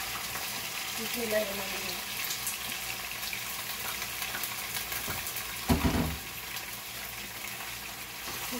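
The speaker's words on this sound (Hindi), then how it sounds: "अब मैं चिकन फ्राई करूँगी।" Chicken sizzles faintly in a pan in a home kitchen, a low steady frying hiss under a voice, with a brief clatter of stirring near the middle.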